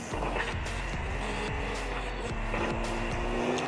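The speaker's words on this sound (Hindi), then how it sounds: "तो मैं गाड़ी पे बैठ कर उस बंदे पे डायरेक्ट कर देता हूँ रश।" A vehicle drives in PUBG with a steady engine drone and shifting tone as it accelerates, holding at a constant, fairly loud level with no talk over it.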